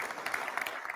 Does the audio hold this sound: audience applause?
yes